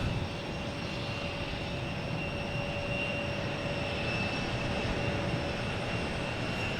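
Aircraft at Boston Logan Airport in the late afternoon, a steady broadband engine roar with a faint tonal whine that holds at an even level throughout, with no voices.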